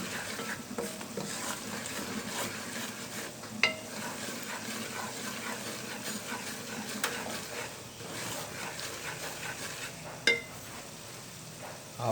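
Semolina halwa fries in oil while a spoon stirs it steadily, giving a continuous close sizzle with scraping strokes and a few sharp clinks against the pan.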